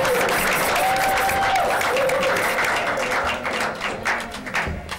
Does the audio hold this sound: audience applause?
yes